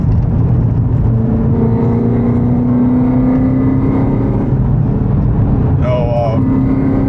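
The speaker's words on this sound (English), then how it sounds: "this is nice to rev match" A BMW E36 Touring with a swapped S62 V8 drones loudly from inside the cabin, the engine pitch climbing steadily as it revs, with a brief blip near the end while rev matching on a downshift.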